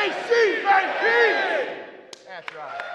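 A live audience at a Men In Blazers show in Kansas City shouting a big KC Baby cheer in unison, a loud roaring group chant that swells and fades, followed by scattered cheers and whoops.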